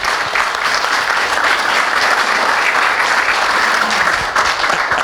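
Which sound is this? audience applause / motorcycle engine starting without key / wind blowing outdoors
audience applause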